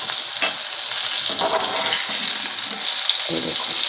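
Pieces of pointed gourd (potol) frying in oil while being turned, a loud close sizzle with scraping stirring strokes and occasional bubbling bursts.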